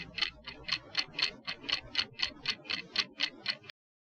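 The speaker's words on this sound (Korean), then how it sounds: "시계 초침 소리가 들렸어요." A clock's second hand ticks steadily, about fourteen crisp, evenly spaced ticks at a brisk, regular rhythm, close and clear with no voices, ending abruptly in silence.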